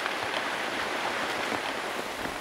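Torrential rain pours in the wild, a dense, even hiss of heavy drops with no break and no voices.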